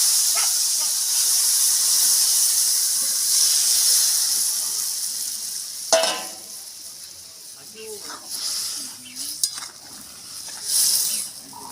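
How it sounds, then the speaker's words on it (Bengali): Fish broth poured into a hot pan while making a light pointed gourd and prawn curry, a loud rushing hiss of steam that fades after several seconds, followed by scattered clanks and a few brief bursts of speech. "এবারে আমি মাছের ঝোলটা ঢেলে দেবো।"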